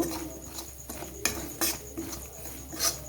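Besan being stirred together with other ingredients for mung dal kachori, a spoon scraping and tapping against a metal bowl in irregular clinks and soft scrapes, close and fairly quiet.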